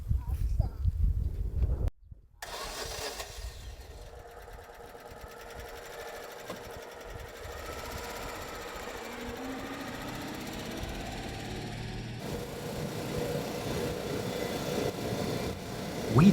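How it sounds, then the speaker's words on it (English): A rented Mini Moke drives along the roads of Vulcano island, Sicily, its small engine giving a steady, buzzing drone with rumbling road and wind noise, after a brief break in the sound near the start. "We drove south in the mini Moke"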